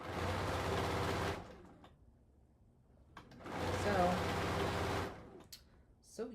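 A Bernina sewing machine with jumbo bobbins stitches in two bursts of rapid, buzzing needle action, each lasting a second or more and separated by a short pause, close and fairly loud.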